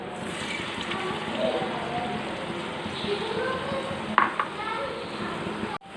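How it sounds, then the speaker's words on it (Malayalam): Banana balls dipped in batter and dropped into hot coconut oil produce a steady bubbling sizzle, with a brief clatter near the end. "നമുക്ക് ഓരോന്ന് ബാറ്ററിൽ മുക്കിയിട്ട് എണ്ണയിലേക്ക് ഇട്ട് കൊടുക്കാം"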